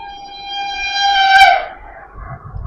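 A Vande Bharat express train sounds its horn in a loud, sustained tonal blast while rushing past at speed, rising and then fading as rumbling rail noise takes over near the end.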